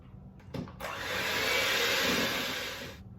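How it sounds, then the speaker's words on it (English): A mixer blends eggs into brownie batter in a kitchen, a brief whir that starts, rises into a steady buzzing drone for a couple of seconds and then stops, fairly quiet and close. "So you'll do one egg at a time, mix those in, blend them up each time."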